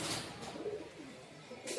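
Domestic pigeons give soft, low cooing calls close by in a quiet indoor loft, a few gentle rolling coos over a faint background hiss.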